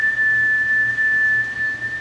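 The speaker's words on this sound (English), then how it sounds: "So it's using a 400 hertz tone" A vintage audio processor puts out a test tone, a single pure, unwavering whistle-like pitch that holds loud and constant for the whole couple of seconds, with no speech.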